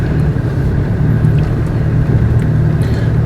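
Traditional and modernized jeepneys idle and move through traffic beside the Bacolod City public plaza. The sound is a continuous low engine rumble with a steady, dense drone and no clear voices.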